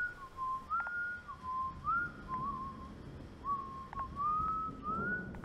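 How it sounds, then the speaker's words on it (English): A lone, eerie whistled tune drifts through a dark house at night, a slow wavering melody of rising and falling notes repeated in phrases over quiet background hiss. "The whistling started."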